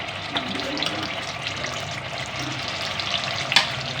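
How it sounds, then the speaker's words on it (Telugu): Onion, chilli and ginger paste fries in oil in a pan, giving a steady close sizzle with a few stirring clicks and one sharp scrape near the end, with no one talking. "ఇప్పుడు ఆనియన్ పేస్ట్ అల్లం వేసి పేస్ట్ చేసాం కదా మొత్తం అంతా ఈ ఆయిల్ వేసి పచ్చివాసన పోయే వరకు వేయించాలి"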